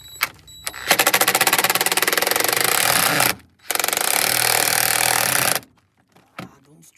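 Loud, sustained rattling hammering from a power tool driving a nut on a VW Beetle under restoration, two long bursts separated by a short pause, followed by a few faint clicks.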